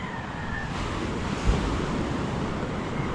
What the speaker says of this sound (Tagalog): lumaki na ng sobra itong alon